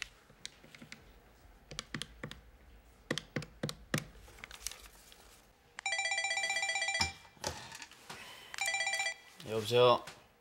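A telephone rings in an indoor room, two bursts of a bright electronic ring after scattered clicks and taps, followed by a voice.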